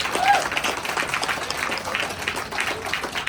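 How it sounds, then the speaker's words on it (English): Audience clapping at a farewell event for TriMet's Type 1 MAX light rail trains, a steady patter of hands at moderate volume with voices murmuring underneath. "that's a big round of applause"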